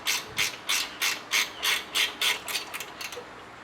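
Hand ratchet loosening a 12 mm bolt on a car AC condenser: about ten quick, bright clicking bursts in steady rhythm, close and fairly quiet, with no talk.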